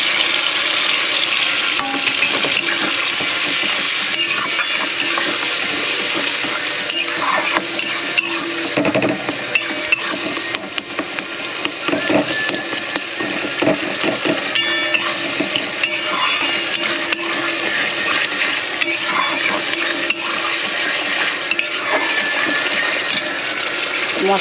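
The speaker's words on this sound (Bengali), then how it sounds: "মশলাটা ভালো করে একটু কষিয়ে নেবো" A fish-curry spice paste of turmeric and chilli powder mixed with water fries loudly in a pan, giving a dense continuous sizzle with frequent spoon scrapes and stirring knocks throughout.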